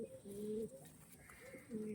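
Fan-tailed pigeons cooing softly at a sale, their low, repeated throaty coos coming in close, faint rolling phrases against a quiet background.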